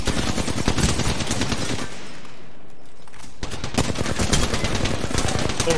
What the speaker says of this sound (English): Someone else is shooting him.